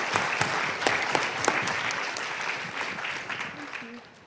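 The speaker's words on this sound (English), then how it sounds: "Let's give them one more round of applause." An audience at a university education anniversary event applauds a panel, dense steady clapping that fills the room and slowly tapers, with no voices over it.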